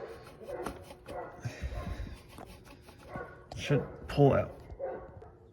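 Dogs bark and yip intermittently in the background while someone talks nearby during repair work on the starter of a 2007 Kawasaki Brute Force ATV, with a couple of louder bursts near the end.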